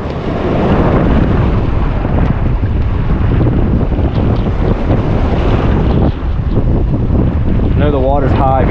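Rough sea water off Destin, Florida churns and splashes continuously, mixed with heavy wind buffeting the microphone.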